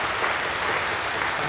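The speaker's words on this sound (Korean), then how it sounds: "우리 사랑하고 격려하며 박수해 주시죠." A church congregation at a Sunday worship service at Incheon Full Gospel Church applauds: dense, continuous clapping that fills a large room, loud and even, with no voices over it.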